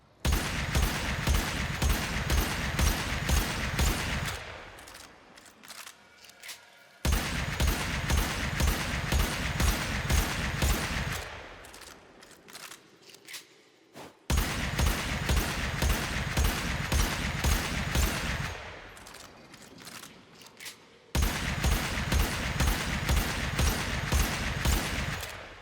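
Lex Prime pistol in the game Warframe firing in four long bursts of rapid, evenly spaced shots, each burst followed by a quieter tail and a short pause before the next.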